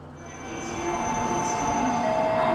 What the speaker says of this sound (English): I'm traveling on one of Japan's most famous inventions, a bullet train